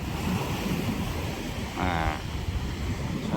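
Ocean waves at a fishing spot on a windy coast, a continuous roar of surf and wind buffeting the microphone, with a brief faint tonal sound partway through.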